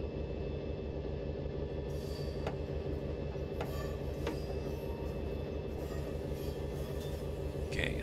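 A New Jersey Transit train in Train Simulator 2020, on a Philadelphia to New Haven run, rolls along with a constant dense rumble and a few faint clicks, steady and unbroken from start to finish.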